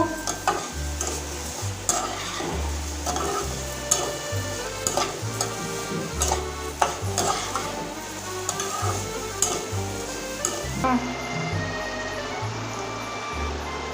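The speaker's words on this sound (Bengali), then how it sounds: "এবার চিনি পড়ে গিয়েছে এবার আমি নেড়ে নেব" Khichuri being stirred in a pot just after sugar is added, a steady scraping and bubbling with rhythmic stirring strokes, fairly loud and close, with no one talking.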